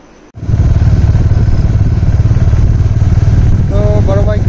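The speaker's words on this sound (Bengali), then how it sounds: "তো বড় বাইকটাই আগে নিয়ে যাচ্ছি আমারটা" A large motorcycle engine starts abruptly and runs with a loud, steady rumble close by, with a voice briefly heard near the end.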